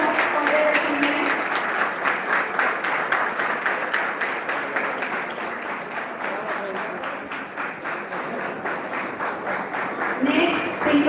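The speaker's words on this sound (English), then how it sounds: "Please give them a huge round of applause for their achievement." A student audience at a B.Tech orientation program gives long, continuous applause, dense and even throughout, with a few brief voices surfacing near the end.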